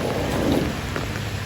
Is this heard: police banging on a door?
no